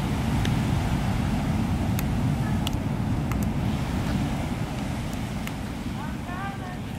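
Ocean surf at night on a rocky shore in Ghana, a steady broadband wash of waves with wind rumble on the microphone, continuous and close, with brief clicks and faint chirps over it.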